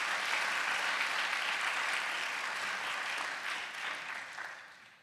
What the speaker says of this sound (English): So a round of applause for Sumita, please.